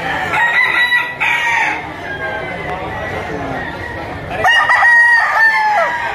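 Roosters crow repeatedly at a gamefowl auction, their long calls ringing loud and close over a noisy crowd, with someone talking in the background throughout.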